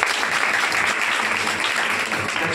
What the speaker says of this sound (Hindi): बार जोरदार ताली होता है।